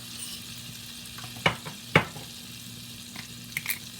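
Butter sizzles softly and steadily in a pan over low heat, with a few sharper clinks and taps rising above the even crackle. No voices.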